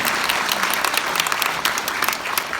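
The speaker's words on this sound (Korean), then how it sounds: "박수로 맞아주시기 바랍니다" Audience applause welcoming guests at a public event during the Incheon mayor's visit to Gyeyang District, a dense, steady wash of many hands clapping throughout without a pause.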